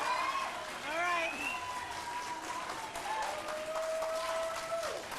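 An audience applauds at a 1994 League of Women Voters debate between two candidates. The clapping swells in waves and fades between bursts while a voice speaks over it.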